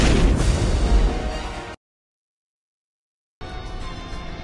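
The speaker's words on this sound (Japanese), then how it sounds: "坊ちゃん奪還を祝しての特大打ち下ろし花火じゃ。" In the Seven Deadly Sins: Grand Cross game, a large firework burst booms loudly. Its crackling tail fades and then cuts to silence before more crackle resumes.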